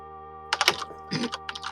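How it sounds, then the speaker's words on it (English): Computer keyboard typing in bursts of quick, crisp key clicks, close and clear over a steady electrical hum, with no voices. "Okay, I can hear your keyboard."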